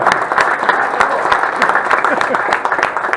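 An audience applauds the third-place finisher, Marko, at a Croatian sommelier competition, with steady dense clapping over a room crowd while a voice speaks over it.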